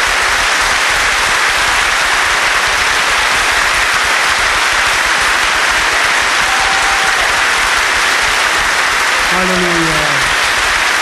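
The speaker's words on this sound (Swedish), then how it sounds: "Let's give big hand to Jesus Christ." Church congregation at a Europe church conference in Sweden breaks into loud, sustained applause filling the hall, a dense continuous roar of clapping with brief faint tonal voices near the end.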